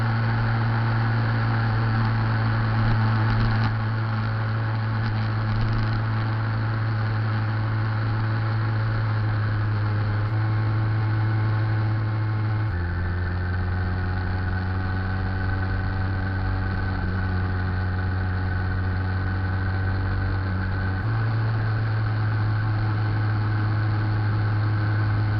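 A motorized bicycle's small engine drones continuously during a long ride, a loud steady buzz with audible pitch shifts as the throttle changes, close up with wind noise and no talking.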